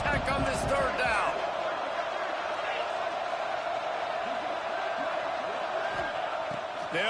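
A loud, continuous stadium crowd roars at a Texas Tech football game on a third down, a dense wash of cheering with a few whoops, under play-by-play commentary.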